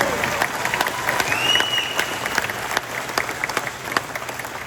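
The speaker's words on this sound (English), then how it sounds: "Yeah, you can applaud that." Crowd at a political rally in Potterville, Michigan applauds, a loud continuous burst of many hands with occasional sharper claps standing out, steady throughout and slowly thinning toward the end.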